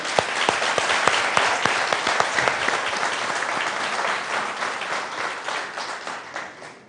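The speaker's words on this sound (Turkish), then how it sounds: "Bir alkış alalım" Sustained audience applause at a Turkish association gathering, dense and fairly loud, with a few sharper individual claps standing out early before the clapping thins and fades toward the end.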